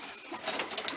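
Pigeons in a loft, soft murmuring coos and rustling from birds close by, with a thin high whistle running through and no talking.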